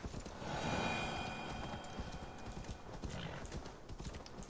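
Horse hooves clip-clop steadily in Assassin's Creed Valhalla, a brisk rhythmic series of hoof strikes over a soft ambient bed, with a faint whinny early on.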